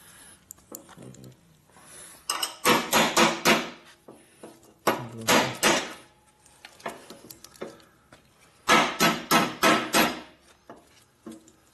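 Bursts of sharp repeated hammer blows during a 2004 Harley-Davidson FLHT Twin Cam touring transmission rebuild, several quick strikes in clusters separated by quieter gaps.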